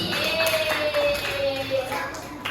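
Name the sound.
children clapping in classroom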